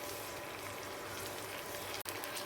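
Okra sautéing in oil in a pan over a very low flame, giving a steady, dense hiss of frying throughout with one brief break.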